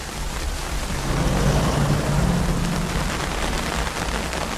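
Heavy rain pours during a thunderstorm in a movie, a dense, loud, continuous hiss of rain with deep rolling thunder rumbling underneath and no speech.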